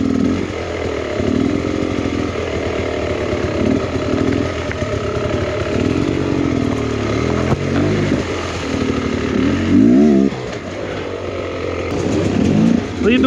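A Sherco 300 two-stroke enduro motorcycle is ridden off-road on a hard enduro trail, its engine buzzing steadily and loud with repeated throttle blips and revving surges, close by throughout.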